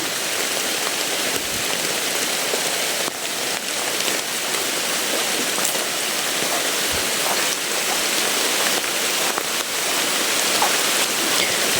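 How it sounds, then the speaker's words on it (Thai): Steady, dense rain falling continuously, a broad hiss of drops on surfaces with occasional louder spatters, no voices. "อุปสรรคก็คือตอนนี้คือเราเจอฝนนะครับ"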